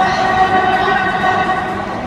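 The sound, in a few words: metro train arriving at underground station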